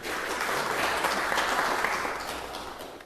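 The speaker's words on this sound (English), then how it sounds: "Everybody give her a round of applause." Applause breaks out in a city council meeting chamber, a full burst of clapping from the room that swells, holds, then tapers off slightly toward the end, with no speech over it.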